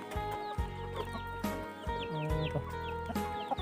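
Fighting cocks in a rural village in Ban Na Sai, Xaisomboun, Laos, cluck in repeated short bursts over a steady low droning hum, fairly close, with no talking.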